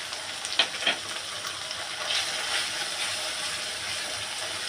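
Coconut paste sizzling softly in a pan with spices for chicken korma, a steady low frying hiss with a couple of light utensil taps near the start and no voices.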